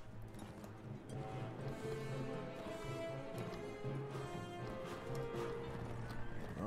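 Horses galloping in the video game Mount & Blade: Warband, a steady busy clatter of hooves with occasional whinnies over a dense, continuous battlefield din, with no talk heard.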